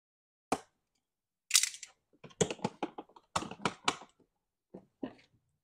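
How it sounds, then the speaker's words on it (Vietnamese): Plastic wrap is peeled off a Metabo-Hitachi power tool combo kit, making short crinkly rustling bursts in an irregular rhythm, close and fairly quiet, separated by silent pauses. "Bây giờ mình sẽ bóc siêu ra."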